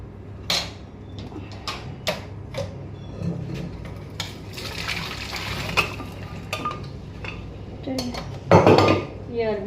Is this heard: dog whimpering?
no